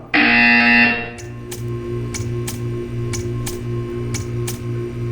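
A loud electronic buzzer from the game Portal 2 blares for about a second, then gives way to a steady hum with a regular ticking pulse about every half second.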